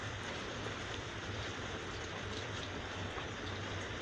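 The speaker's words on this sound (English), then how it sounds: "My weather here today is raining like crazy" Heavy rain pouring steadily outdoors during a thunderstorm, a dense, even hiss with no breaks, fairly quiet and with no voices.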